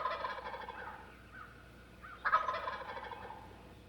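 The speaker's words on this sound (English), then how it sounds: "A hen responds to the dominant gobbler's gobble" A dominant wild turkey gobbler gobbles, a rapid warbling rattle, then a second louder gobble follows after a short pause, heard fairly clearly outdoors.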